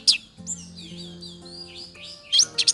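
An orange-headed thrush sings at a songbird contest venue, a close, clear run of varied whistled phrases and sharp chirps with a few loud bursts near the end, no voices.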